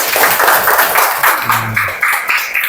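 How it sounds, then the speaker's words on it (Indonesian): Students in a classroom clap their hands together in a loud, close, rhythmic patter of short bursts that runs steadily throughout. "Coba tepuk tangan dong."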